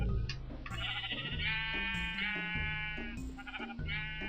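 Minecraft sheep bleat in a video game, several wavering baa calls overlapping one after another at close range, moderately loud over a low steady background drone, with no speech.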